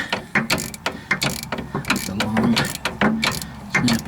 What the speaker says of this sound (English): snap-on ratchet, that don't help any.